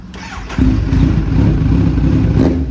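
A motorcycle fitted with a full titanium AR exhaust is revved up after a brief quiet start, settling into a loud, steady, throaty drone that holds to the end.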